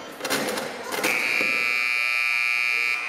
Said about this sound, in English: And there's the buzzer to call the teams off the court and over to their respective benches.